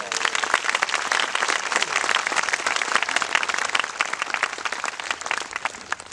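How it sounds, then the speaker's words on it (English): An audience gives a round of applause for the co-chairs of a city committee at a civic gathering, a dense, steady wash of many hands clapping that fills the room for several seconds with no voices over it. "Let's give them a round of applause."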